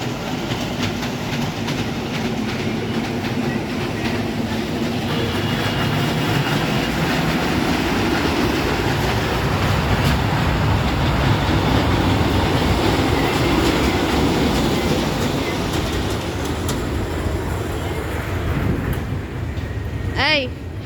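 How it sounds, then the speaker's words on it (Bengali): A small amusement park train runs on its track in a children's park, giving a continuous rolling rumble with faint rhythmic clatter. Voices can be heard in the background, and a brief squeal comes at the very end. "ট্রেন ঘুরছে।"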